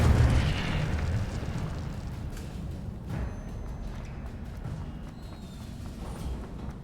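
An Incendio fire spell cast in Hogwarts Legacy: a burst of flame at the very start, then a fading roar and crackle that tapers off over several seconds.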